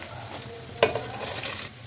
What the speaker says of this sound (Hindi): अब इस उबलते हुए पानी में ही चावलों को ऐड करेंगे।